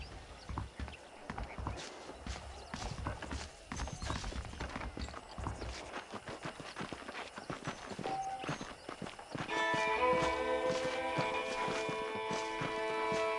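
Saddled horses walk in Red Dead Redemption, their hooves clip-clopping steadily in a loose rhythm, with a brighter tonal music bed entering partway through.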